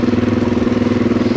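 Suzuki DRZ400e motorcycle engine running low and steady on a muddy shakedown ride, a loud close rhythmic thump at a slow even pace.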